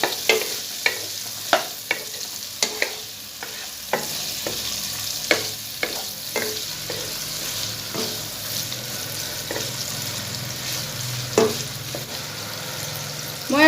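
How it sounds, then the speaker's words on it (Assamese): Paneer pieces fry in mustard oil under a continuous loud sizzle, with repeated spatula clacks and stirring scrapes, busy early on and sparser later. "এয়া পনীৰখিনি মই এতিয়া ভাজি ল'ম"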